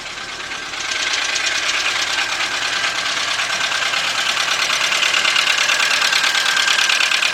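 A 1998-2005 Volkswagen car engine, a vehicle with a suspected fuel pump fault, starts and settles into a loud, rough, uneven idle with a rapid knocking clatter, heard up close and continuous.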